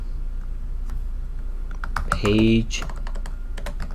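Typing on a computer keyboard: sparse, scattered key clicks close by, with a brief spoken word partway through.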